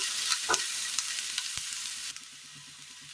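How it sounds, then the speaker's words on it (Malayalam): Onions are sautéed in a pan for a Kerala breakfast dish: a soft hiss of frying with a few stirring scrapes and clicks, then quieter low bubbling and a sharp clack at the end, close with no talking. "സബോള നല്ലപോലെ ഒന്ന് വഴറ്റിയെടുക്കണം."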